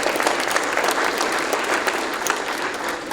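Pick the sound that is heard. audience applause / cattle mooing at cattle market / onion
audience applause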